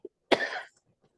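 A single sharp cough, close and fairly loud, comes from someone at a public commission meeting, with a brief soft sound just before it and quiet afterward.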